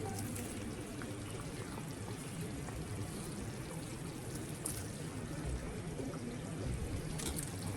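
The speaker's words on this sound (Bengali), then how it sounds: "একটুখানি ঝোলটা বেশি দিলাম" Extra broth pours into a fish curry as a steady, close liquid rush with a bubbling simmer underneath, continuous and fairly loud for several seconds without talk.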